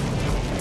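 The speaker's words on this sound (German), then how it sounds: "Plötzlich ereignet sich im Bug des U-Boots eine Explosion." Explosion in the bow of the Russian submarine Kursk, a loud, dense low rumble that fills a short burst and stays level throughout.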